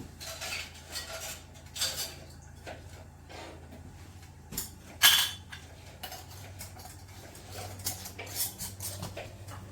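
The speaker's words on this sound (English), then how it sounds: "I'm gonna reach over here and get one of my lids, put it on" A metal canning lid is set onto a hot jar of okra for water-bath canning, giving a few light metallic clinks and taps amid quiet kitchen handling noises.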